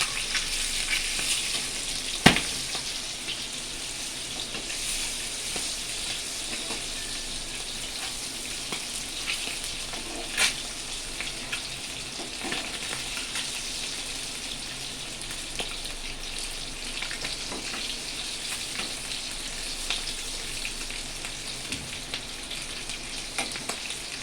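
Whole boiled eggs frying lightly in hot oil in a pan for an egg curry: a steady, soft crackling sizzle running continuously, with occasional sharper pops and clicks of utensils, and no talk.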